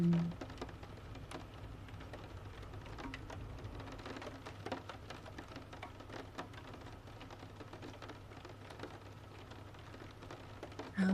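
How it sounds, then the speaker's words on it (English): Steady rain falling through the dark, a continuous soft hiss of drops on surfaces with faint scattered patters, even and unbroken throughout, no voices. "the rain continues falling endlessly through the dark."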